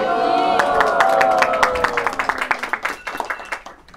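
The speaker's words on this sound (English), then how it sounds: "Deserved applause." An audience at a devotional gathering bursts into hearty clapping that holds full for a couple of seconds, then thins into scattered, separate claps that fade out.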